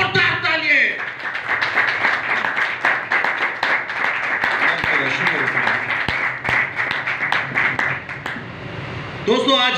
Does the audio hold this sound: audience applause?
yes